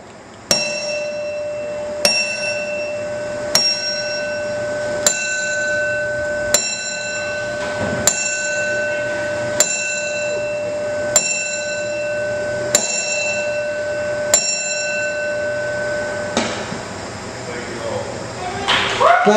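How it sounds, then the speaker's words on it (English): A bell tolled in a ten-bell salute at a wrestling event, slow evenly spaced strikes about two seconds apart, each ringing out over a low crowd murmur before a final swell of noise. "we're going to do a can bell salute to Mr. Rudder"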